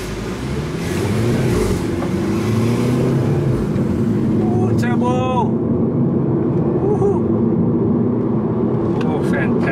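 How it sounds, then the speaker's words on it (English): A Mini Cooper S John Cooper Works engine accelerates under throttle from inside the car, a steady loud drone with rising harmonics, while people talk over it. "Okay, I'm going to press on the gas."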